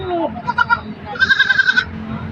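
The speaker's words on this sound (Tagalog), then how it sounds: "Asa yung kambing nila?" A goat bleats close by on a farm: a few short, wavering calls followed by a longer, louder bleat, with no talking.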